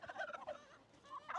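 A turkey gobbles in a quick warbling burst on a farm kept with chickens and a goose, moderately close, with no talk.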